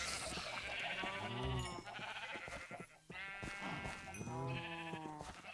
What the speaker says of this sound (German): Da sind sie immer schnell unterwegs, die scheiß Schafe.